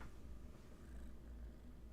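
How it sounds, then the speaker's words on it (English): Foster kittens recovering from surgery purr softly and continuously up close, a low, steady rumble that stays faint with no voices. "Yes, we're purring"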